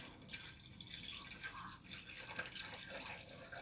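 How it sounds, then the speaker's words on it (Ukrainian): Nine-percent vinegar poured over items in a container to soak during a restoration job, giving a faint, steady splashing trickle throughout. "І заливаємо це все оцтом."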